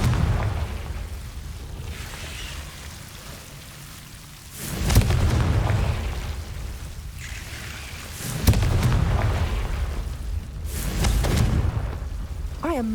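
Three Confringo blasting-spell explosions in the Hogwarts Legacy video game, spaced a few seconds apart. Each is a loud booming blast with a rumbling, thunder-like tail, over a quieter ambient background.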